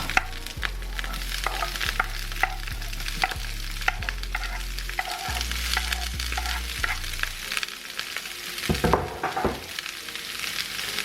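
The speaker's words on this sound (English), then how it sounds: "I'm gonna go ahead and throw all my seasonings in to get them sauteed real nice." Seasonings sautéing in vegetable oil in a pot for zucchini noodles sizzle close up, with repeated rhythmic spoon scrapes and knocks against the pot over a continuous frying hiss. There is no talking.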